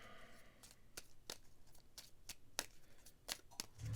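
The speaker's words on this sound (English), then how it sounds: "So I'll shuffle this up." Shuffling a deck of mine artifact cards for the Shadows of Brimstone board game: a string of sharp, quiet card snaps and riffles, close by, with no voice heard.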